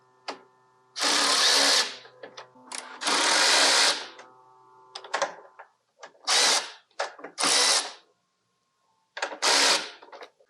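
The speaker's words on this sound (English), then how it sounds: "I will use a 1/2 inch socket to loosen these bolts." A 1/2 inch socket on a power tool loosens bolts on a Harley motorcycle: five or six loud, close bursts of harsh whirring and rattling, separated by short silent pauses.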